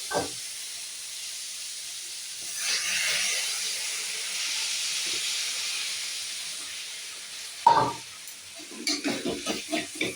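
Water goes into a sizzling curry of potatoes and small fish, a steady steamy hiss breaking into a sudden loud surge, then quick clattering strokes of a spoon stirring the pan.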